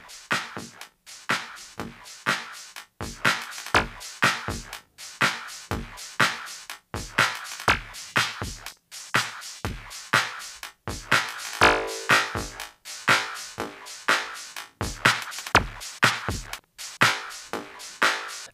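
Ableton Live 12's Roar effect at full feedback turns a four-bar loop into a steady, pulsing stream of distorted, ringing drum hits with a smeared, resonant tail, repeating evenly and loudly throughout without speech.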